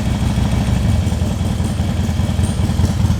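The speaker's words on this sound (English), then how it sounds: "idle's pretty good, runs good" A Harley-Davidson Wide Glide motorcycle engine idles on choke, a loud, close, steady low-pitched lumpy throb with no revving.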